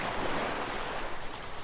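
Ocean surf rolls in as a steady, continuous wash of breaking waves, fairly soft and with no voices over it.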